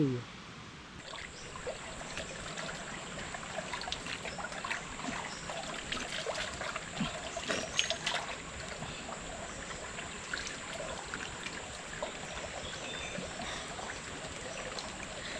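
Water pours steadily from a pipe into an irrigation channel on a farm, a constant broadband rush and trickle running unbroken throughout at moderate level, with faint background voices now and then.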